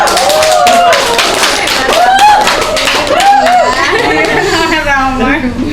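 Rapid clapping from an audience at a drug-education talk, with lively chatter and laughter, voices talking over the applause throughout.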